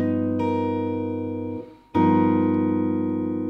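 A sustained, tense jazz guitar altered dominant (7alt) chord rings clearly, fades briefly, then is struck again and rings on with a slightly shifted voicing.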